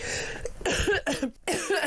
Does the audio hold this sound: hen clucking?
no